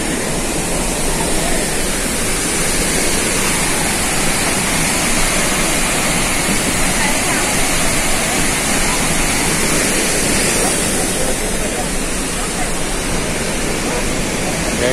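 The Pailón del Diablo waterfall in Baños, Ecuador roars as a loud, steady wall of rushing water heard from close by, unbroken for the whole stretch with no clear voices above it.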